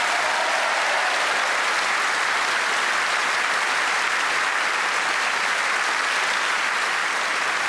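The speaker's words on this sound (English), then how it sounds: "A big round of applause, a good support" Steady, dense applause from a stand-up comedy audience, a continuous loud roar of many clapping hands with no pauses.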